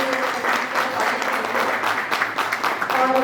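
An audience at a caregiver training event bursts into strong, sustained applause, many hands clapping densely and steadily, with a faint voice underneath.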